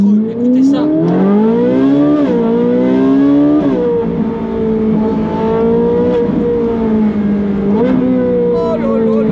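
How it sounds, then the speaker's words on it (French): A Ferrari 458 Speciale's naturally aspirated V8 with a Capristo exhaust revs loudly and close, its pitch climbing and falling through several sustained wails without a break. "on va juste profiter de la mélodie de cette Ferrari"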